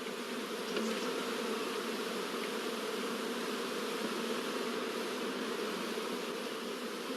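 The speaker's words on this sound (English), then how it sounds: "in the queenless starter colony, we can hear the loud buzzing of the orphan bees" Orphan honey bees in a queenless starter colony hum with a loud, dense, unbroken buzz that holds steady from start to finish, close and alone with no other sounds.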